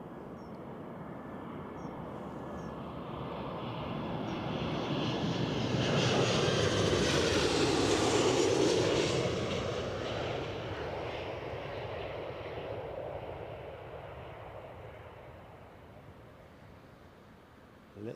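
A fixed-wing airliner landing at Newcastle Airport in a crosswind, its engine roar building steadily from a distance, peaking loud overhead, then fading away as it rolls out, with no talk over it.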